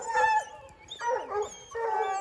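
Hunting dogs howl and bay nearby during a mountain lion hunt, three drawn-out, wavering cries with short pauses between, loud and close with no talking.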